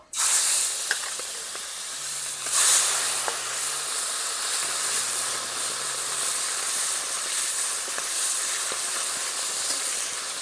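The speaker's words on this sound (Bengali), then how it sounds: "মাছগুলো লাল লাল করে ভেজে নেব" Salted, turmeric-rubbed koi fish frying in hot oil, a constant loud hiss and spatter that runs throughout with faint clicks and low hums underneath.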